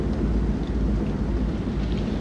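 Heavy thunderstorm rain from the video game Man of Medan, a loud, steady downpour with deep rumbling low end and no break throughout.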